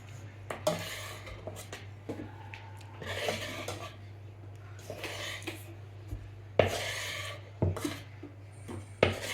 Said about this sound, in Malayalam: നമ്മൾ ജസ്റ്റ് ഇങ്ങനെ സ്പൂൺ വെച്ച് ഇങ്ങനെ ഫോൾഡ് ചെയ്ത് ഫോൾഡ് ചെയ്തെടുത്താൽ മതി